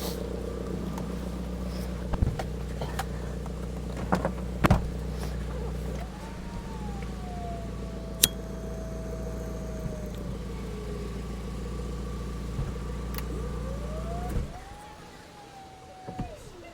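White taxi car engine fitted with a stainless steel downpipe, original steel mid-pipe and steel silencer, idling with a steady low rumble and a few brief revs, then cutting off near the end.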